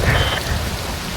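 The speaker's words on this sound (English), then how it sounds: "Wind blows, rain falls." Heavy rain pours with a low rumble of thunder beneath it in the Monsoon stage of Metal Gear Rising: Revengeance, a dense, steady hiss with no voices.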